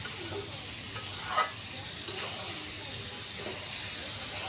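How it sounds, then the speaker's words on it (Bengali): Masoor and mung dal frying in a pan for khichuri, a steady soft sizzle and hiss with a few brief stirring scrapes, close and fairly quiet, no voices. "এই তো আমি এখানে ভাজা ভাজা করতেছি"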